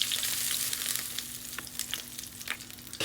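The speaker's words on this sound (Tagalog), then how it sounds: "Priprituhin lang natin yung atay pati balon-balonan tol hanggang mag golden brown siya" Chicken liver and gizzards fry in hot oil in a pot, a steady close crackling sizzle with scattered sharp pops throughout.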